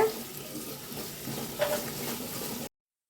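Onions sauté over medium heat in a pan for a stingray fish curry, making a soft, steady sizzle close by with one brief stirring scrape partway through before the sound cuts off abruptly.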